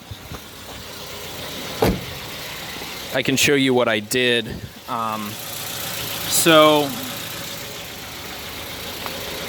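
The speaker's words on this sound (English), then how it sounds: "The truck's running right now" A low, steady idle from a Mitsubishi Mighty Max pickup truck engine runs in the background throughout while someone talks briefly over it.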